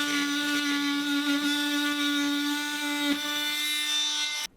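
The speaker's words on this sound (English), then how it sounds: "So I started using the multi-tool to make these straight cuts." Oscillating multi-tool making straight cuts during interior house construction, a steady, close, high-pitched buzzing whine that holds for several seconds before cutting off abruptly.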